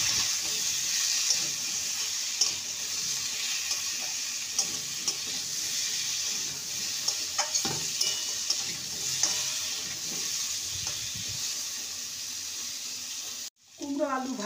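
Chunks of pumpkin and potato frying with turmeric and salt in a pan, a continuous close sizzle broken by repeated stirring scrapes, with a brief cut near the end.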